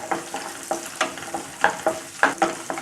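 Garlic and shallots sautéing in a pan for a Chettinad garlic tamarind curry, with rapid scraping stirs and a steady soft sizzle underneath, close and moderately loud, without any talk.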